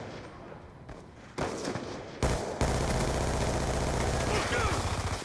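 Gunfire in the Black Ops 2 video game: a few sharp shots, then a loud continuous burst of rapid fire building up and holding, close and dense, under a faint voice.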